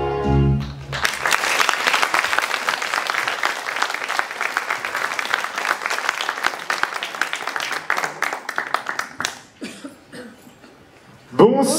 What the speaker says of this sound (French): Merci d'applaudir très très fort Adèle et Bégonia